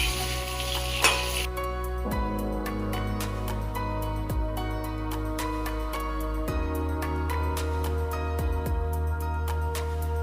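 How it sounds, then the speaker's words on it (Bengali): Pointed gourd (potol) fries in hot oil in a kadai while being stirred, making a continuous sizzle with scattered scraping and clinking of the utensil, alongside steady tonal background sound. "কড়াইতে তেল দিয়ে তা গরম হলে তাতে পটলগুলি দিয়ে ভালো করে নাড়াচাড়া করতে হবে যতক্ষণ না এটি সুন্দরভাবে ভাজা হয়"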